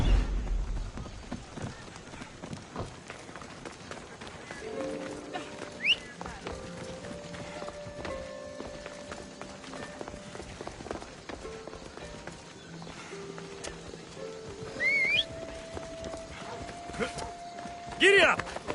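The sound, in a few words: horse galloping in Assassin's Creed Odyssey video game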